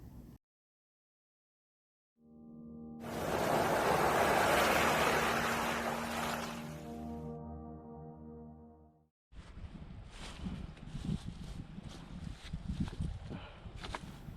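Broad, rushing ocean surf swells up, holds for several seconds and fades, followed by steadier crackly noise of water and movement nearby, at a seaside campsite.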